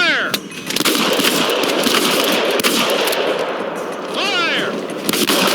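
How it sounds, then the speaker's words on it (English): Handgun shots fired at a shooting range target during state trooper training, several sharp cracks spread across the stretch over loud background noise, with a voice heard briefly. "When I tell you to fire, you engage the target. 2 rounds, minimum standard response."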